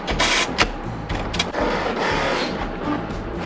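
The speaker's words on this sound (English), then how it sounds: "let's go ahead and perform a nozzle check" An Epson inkjet printer running a nozzle check, its print head carriage whirring and clattering back and forth with motor drones and short mechanical clicks, steady and close, no talking.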